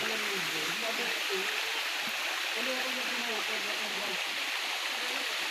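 Steady rushing roar of the Kawali Falls waterfall at Camp Elena in Balagbag, broad and continuous throughout, with faint voices murmuring beneath the water noise.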